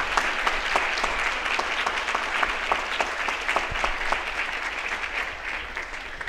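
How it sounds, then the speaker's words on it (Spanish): Loud, steady audience applause at a pro-life congress panel, a dense wash of clapping with distinct claps popping out across the whole stretch. "Para ellas dos, un aplauso muy fuerte."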